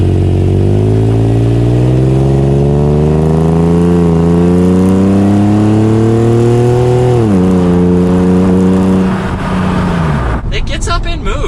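A 1996 Acura NSX-T engine revs hard and climbs steadily in pitch, drops briefly as it shifts, then winds down near the end; loud and close.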